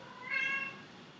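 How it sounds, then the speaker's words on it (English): An excited cat lets out a single short, high meow nearby against a quiet room background. "my cat is kind of, excited"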